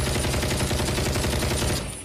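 Gunfire in an American Dad cartoon scene, rapid dense bursts like a machine gun with a steady pulsing rhythm, loud and close, continuing without pause before fading at the end.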